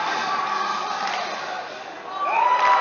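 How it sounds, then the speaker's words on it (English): A crowd fills Aldrich Arena at a boys high school hockey game between Hill-Murray and Mahtomedi, a steady murmur with a light swell of cheering near the end, heard under continuous play-by-play commentary. "Crowd's still slowly starting to pack in the Aldrich Arena."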